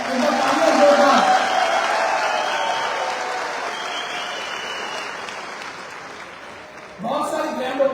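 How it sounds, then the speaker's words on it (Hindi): Loud applause from a seminar crowd at a network-marketing business event, sustained clapping that slowly fades before a fresh burst rises near the end, with a voice briefly audible over the crowd. "एक बार तालियां जोरदार"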